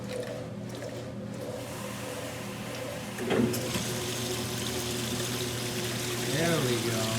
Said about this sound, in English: See if we can get it pushing out water out of that drain hose